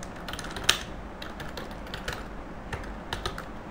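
Keys on a computer keyboard click softly in quick, uneven bursts, close by and faint, with no voice over them.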